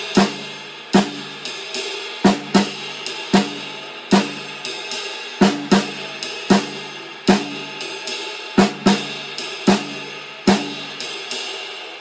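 A drum kit plays a syncopated snare and bass drum independence exercise with sharp, close hits and a steady ride or hi-hat pattern running through, with repeating accents across the bars and no talking.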